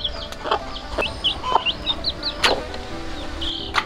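Chickens clucking close by in a series of short, repeated calls, mixed with a few sharp knocks and clatters in the background.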